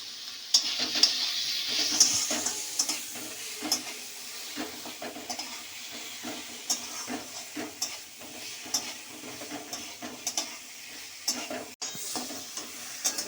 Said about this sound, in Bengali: এই কষানো হয়ে গেলে এবার আমি আলু দেবো। এই ভাজা আলুটা আমি দিয়ে দেবো।